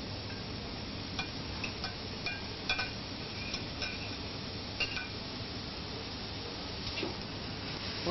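Minced meat and onions stirred in a pan with a spoon, soft scattered clinks and scrapes against the pan over a steady low background, close but faint.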